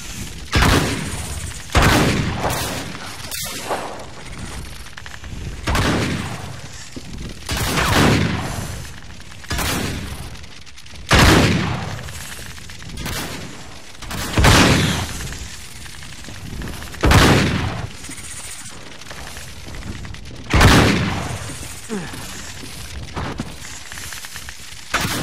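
Gunfire in the Uncharted 3: Drake's Deception chapter "As Above, So Below", with loud shots arriving in bursts every two to three seconds over a steady background din for about twenty-five seconds.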